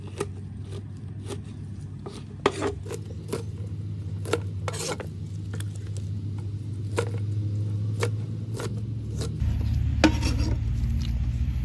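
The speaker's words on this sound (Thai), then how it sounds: "เราก็เอาเปลือกนะมาหั่น" A knife cuts pineapple peels on a board with repeated close scraping and chopping strokes at an irregular rhythm, over a steady low background hum.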